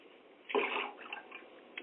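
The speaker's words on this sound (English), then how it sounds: "Put a little bit more water in there." Water is poured into a lemon drink: a brief splashing pour starts abruptly, then thins into a lighter trickle with a few small drips.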